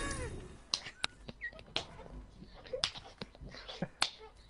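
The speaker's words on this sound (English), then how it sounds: "I couldn't even clap properly." Several sharp, uneven hand claps or slaps come close and fairly quiet in an irregular rhythm, mixed with light clicks and brief chirpy noises, with little talk.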